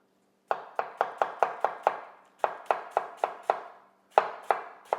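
A knife chops through cabbage for sauerkraut in medium slices, crisp close thuds in quick even bursts of about six strokes each, with short pauses between groups and no talk.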